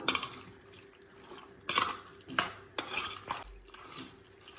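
Chicken pieces being mixed with yogurt, garam masala and salt in a bowl for butter chicken, with quiet irregular scrapes, clinks and wet squelches, close by and alone.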